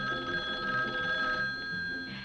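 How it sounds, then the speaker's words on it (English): A kitchen telephone rings in a bright, steady electronic trill that lasts about two seconds, heard alone and fairly soft. "a kitchen phone at hand when friends call up to chat a bit"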